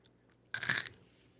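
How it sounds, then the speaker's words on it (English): Crunchy food is chewed with an open mouth close to the microphone, giving one brief, loud, wet crunching burst over a quiet background. "Forgive me, because this is disgusting to chew with your mouth opened up."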